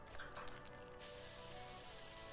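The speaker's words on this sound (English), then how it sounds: "If you try again, I will pepper spray you back to the Stone Age." Pepper spray fired in South Park: The Stick of Truth, a sudden steady loud hiss that starts partway through and continues without a break over game background sound.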